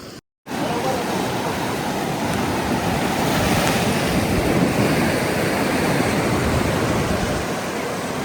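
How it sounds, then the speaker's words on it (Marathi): Sea waves surge against the rocky Konkan shore at Harihareshwar. The surf makes a loud, unbroken roar, with gusts of wind buffeting the microphone. "बघू शकता पाणी आता लाटा वाढलेल्या आहेत"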